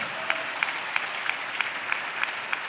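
A church congregation claps in unison during a sermon, with about nine sharp, evenly spaced rhythmic claps over a soft background murmur.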